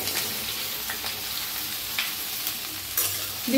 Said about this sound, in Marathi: बघा असं सारखं हलवत ना भेंडी भाजून घ्यायची